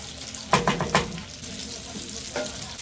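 Bacon stirred into a pot of chicken soup gives a close, continuous bubbling and sizzling with a few sharp stirring splashes and clatters in the first second.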